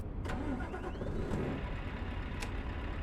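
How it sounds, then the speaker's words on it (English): A truck engine in Euro Truck Simulator cranks and catches, settling into a steady mid-pitched rumble that fills the short stretch with no talk over it. "So we're gonna go ahead and start our truck."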